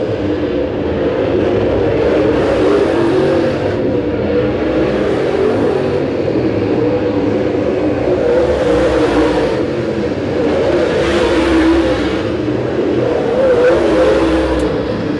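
Race cars battling for the lead at Winston Speedway at night, a steady pack of engines droning and surging in repeated waves as cars sweep past, loud and continuous with no talk.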